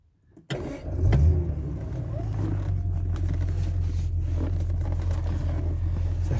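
A Daimler car engine cranks and catches, then settles into a loud, close idle with an uneven, stumbling beat from a misfire.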